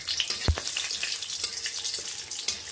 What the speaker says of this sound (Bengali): এই তেলে আমি একটি লঙ্কা ও 5 ফোড়ন দিয়ে দিলাম।